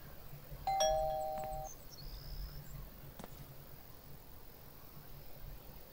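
A doorbell chimes once in a Thief Simulator house, a clear electronic ding-dong tone ringing out alone over a quiet, hissy background, followed by a brief click.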